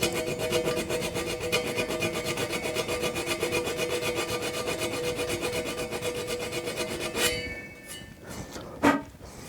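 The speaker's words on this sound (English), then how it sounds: "It's a diamond file. They actually cut very, very nicely." A diamond file rasps steadily against a steel bike frame tube in a frame-building shop, a continuous close scraping texture that runs for several seconds before stopping with a few faint clinks.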